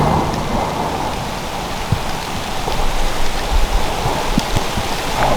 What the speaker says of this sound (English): Kind of have to wait the storm out though